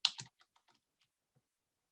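Quick bursts of typing on a computer keyboard while entering math into a document: a cluster of close, crisp clicks up front, then sparse, fainter single key taps trailing off into silence.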